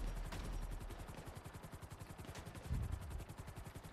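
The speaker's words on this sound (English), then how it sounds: "Where's that other helicopter coming in? Helicopter coming in." A helicopter in GTA V Online thrums with a steady, rapid rotor chop throughout, mixed with a dull boom and scattered gunfire bursts, all fairly faint and distant.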